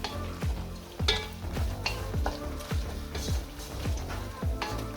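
Spicy smoked paprika is stirred through hot oil in a pot: rhythmic spoon strokes swish and scrape about twice a second over a constant close sizzle, with no voices.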